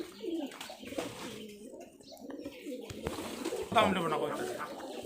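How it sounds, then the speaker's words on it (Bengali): Large Giribaj high-flyer pigeons coo softly in low, throaty bursts close by, mixed with people talking over them. "মোটামুটি বেশ বড় সাইজের কবুতর"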